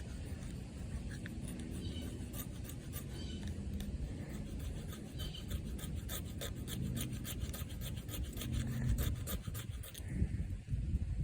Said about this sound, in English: Now what I'm going to do first is just scrape off that coating that's on here.